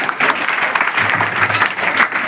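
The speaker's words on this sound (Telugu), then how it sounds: "నీకు కోసం చప్పట్లు కొట్టాడమ్మా ఒకసారి." A room full of students at a girls' junior college in Hyderabad claps steadily together, a dense, continuous burst of applause at close range with no pauses.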